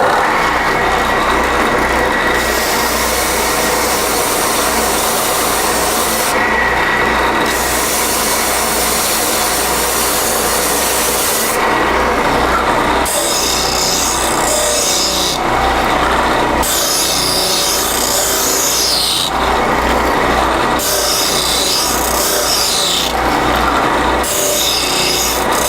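A power sander works the rough edges and rounds the corners of a wood board, a loud continuous abrasive whine that drops off briefly several times between passes, with no talking.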